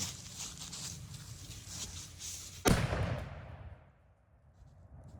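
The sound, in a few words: cannon being fired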